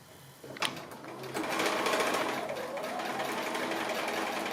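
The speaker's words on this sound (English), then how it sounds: "And just sewing now straight on that line that we've just drawn." Sewing machine stitching pinwheel quilt block pieces cut from 2 1/2-inch strips and squares, a steady close whirring run that starts after a brief click and carries on continuously.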